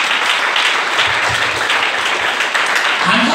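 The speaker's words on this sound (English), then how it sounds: "I'm happy you are clapping." Church congregation clapping during a Sunday service, a dense, steady wash of applause filling the room from start to finish at even loudness.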